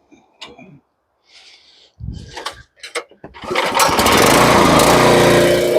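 A sawmill engine starts after a few handling clicks and a brief pull or two, then catches and settles into a loud, steady running roar.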